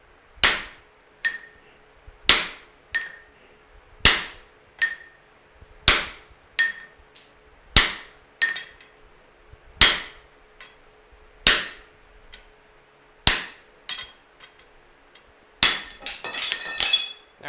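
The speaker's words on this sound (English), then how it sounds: "you hit the other end with a hammer" A hammer strikes a hot cut chisel set on steel during Damascus forging, about a dozen sharp ringing metallic blows at a steady, unhurried pace, close and loud with quiet gaps, ending in a busier cluster of clinks.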